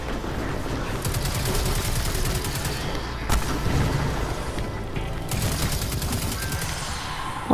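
Dense, continuous automatic gunfire from the Destiny 2 video game, rapid repeated bursts filling the whole stretch with sharp cracks and booms, loud and close, with no talking over it.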